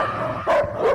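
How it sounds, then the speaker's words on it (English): A vicious dog barking and growling, two sharp close barks over a rough low rumble, loud and alone. "a vicious-looking dog suddenly bursts from a panel in the wall and starts barking loudly, baring its teeth and growling straight at him"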